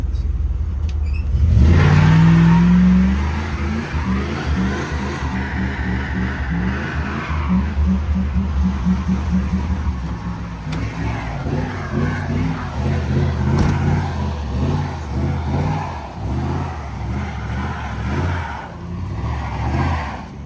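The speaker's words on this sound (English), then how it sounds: "You said it does burnouts?" A stunt scooter's small engine revs hard and holds high for a burnout, a loud sustained droning whine with rising pitch steps, close by, with a brief squeal near the start.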